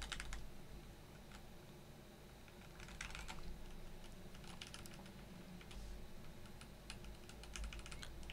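Typing on a Rama U80 mechanical keyboard with stock switches, a steady stream of quiet, close key clicks in uneven bursts with no talk.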